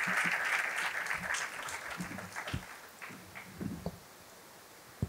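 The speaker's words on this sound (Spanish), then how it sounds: "le hacemos un aplauso y las gracias a las dos por estar aquí" Audience applause at a talk on Alzheimer's and its treatment, a dense burst of clapping from a seated crowd that thins and fades over about five seconds, with a few scattered claps and faint murmuring near the end.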